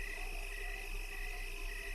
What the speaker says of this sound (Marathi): मध्येच रातकिड्यांचा आवाज येत असतो.